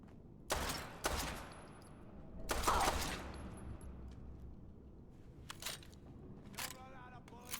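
Scattered gunshots from a pipe rifle in Fallout 4, a few sharp cracks spread apart and fairly near, with an echoing tail and a louder burst in the middle; faint game ambience fills the gaps.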